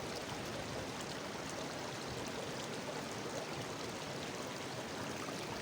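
A bottle is filled at a natural mountain spring outdoors, a steady faint rush of running water with no break or change throughout.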